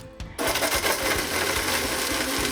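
A blender whirs on abruptly and grinds coconut with water steadily, a loud, dense motor roar with rhythmic chopping thumps as chunks and liquid churn.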